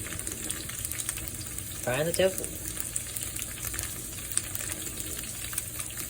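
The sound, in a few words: tofu frying in a pan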